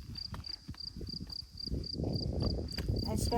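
Crickets chirping at the Parowan Gap, near a cave in an outdoor rocky setting: a faint, steady run of regular high chirps over footsteps and rustling close by.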